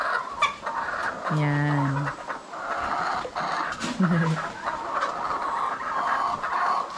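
Layer hens on a farm cluck and call loudly at feeding time, with a dense continuous chorus of fowl near the listener while a person speaks briefly over it.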